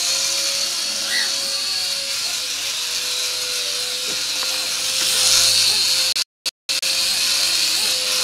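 A mini indoor RC helicopter hovers and flies, giving a thin, steady electric whine with faint hiss that shifts a little in pitch and briefly cuts out near the end.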